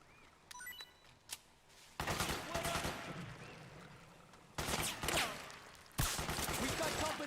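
Bursts of automatic gunfire from the Metal Gear Solid 4 video game, some spread-out single shots and then dense sustained volleys that rattle on in loud stretches, with a battle voice shouting commands.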